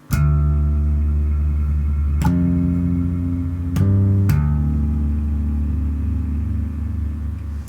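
Bass guitar played through a particle verb pedal on a Warwick Rockboard pedalboard, sustained loud low notes with shimmering harmonic layers, a few plucked note changes, alone with no talk.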